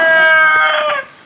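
A rooster on a farm gives a single short, bright crow lasting about a second, fairly close and clear, with no other sounds around it.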